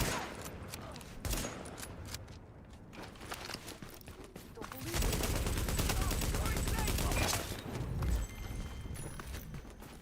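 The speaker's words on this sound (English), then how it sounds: "Ooh, that was a shotgun." Several loud, close shotgun blasts in a survival video game, booming bursts broken by quieter stretches of footsteps and clatter, with a player talking over them.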